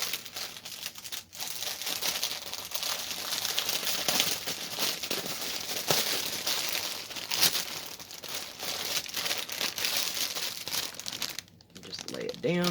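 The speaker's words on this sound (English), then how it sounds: "Get rid of the crinkling." Crinkly plastic wrapping from a cross stitch kit rustles and crackles continuously for several seconds, loud and close, with the sound easing briefly near the end before starting up again.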